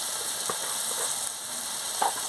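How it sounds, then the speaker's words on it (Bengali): Soybean chorchori sizzles steadily as it is sautéed and stirred in a pan, a continuous close frying hiss with a few soft spoon scrapes and no talking. "দিয়ে ভালো করে কষিয়ে নিচ্ছি"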